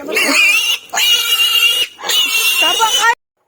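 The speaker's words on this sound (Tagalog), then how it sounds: "Nakakairing yung boses ng mga biik na to pag niliguan" Piglets being bathed squeal loudly and shrilly in three long, piercing bursts separated by short gaps, very close, with no talking.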